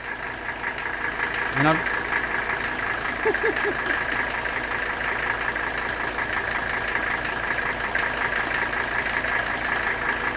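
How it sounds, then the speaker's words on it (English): A 1984 Mercedes-Benz 300SD with the OM617 diesel engine idles just after a cold start, giving a steady, close, rattling diesel clatter throughout, with a short spoken phrase over it. "There's your typical cold start for a Mercedes diesel."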